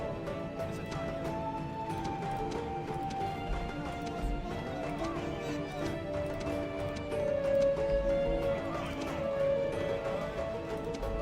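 Scythian horse archers gallop across the battlefield in the strategy game Europa Barbarorum, with a continuous rumble of hooves, occasional whinnies and clashing noise, and steady game sounds underneath.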